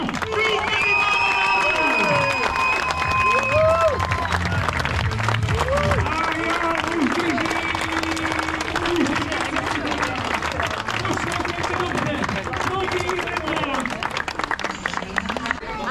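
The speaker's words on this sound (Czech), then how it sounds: "Myslím, že můžeme zatleskat ještě jednou." Spectators clap and cheer at the Moraviaman 2025 race, a steady wash of applause filling the whole stretch beneath a voice speaking over a loudspeaker.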